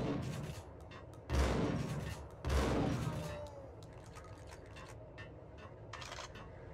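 Two heavy, booming gunshots in the video game Max Payne ring out a second apart, followed by quieter clicks and rattling sounds over a steady background.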